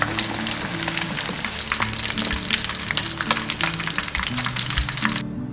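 Pork spare ribs deep-frying in oil over medium heat, a dense, steady crackling sizzle with scattered sharp pops running throughout, close and loud, with no voices.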